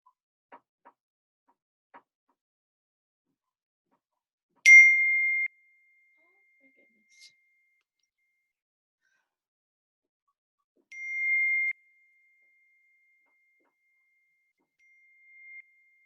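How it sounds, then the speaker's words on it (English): Phone text message alerts, several short bright dings sounding alone against near silence, each ringing briefly before fading, with a few faint clicks between them. "You hear text messages going off"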